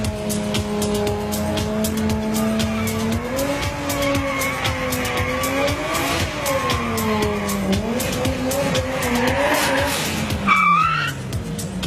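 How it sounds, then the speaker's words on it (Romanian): A BMW race car does a burnout, its engine revving up and down under long, continuous tire squeal that swells and wavers for several seconds before a sharp final screech. "Stai că Nelu o să-și facă burnout-ul de rigoare"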